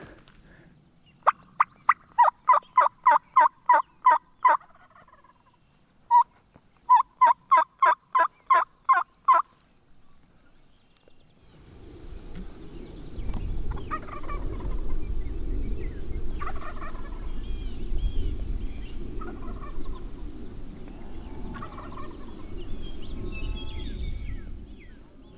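Two loud, rapid bursts of wild turkey gobbling ring out near a cattle pasture in Nebraska, each a quick rattling series, followed by steady wind noise and faint distant calls.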